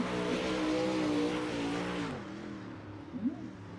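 Super late model race car engines, weighted at 2350 and running full horsepower in the iRacing simulator, roar and rev continuously, pitch rising and falling as the cars accelerate, then fade to a lower, quieter drone.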